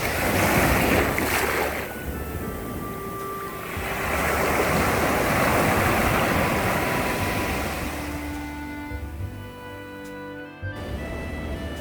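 Ocean surf rolls continuously at Gemela Beach in Puerto Vallarta, with high waves washing in a broad steady roar and some wind buffeting the microphone.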